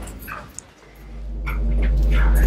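A dog in the ruins of Faribault State Hospital whimpers and yips close by, short high cries over a rising low rumble, with no talking.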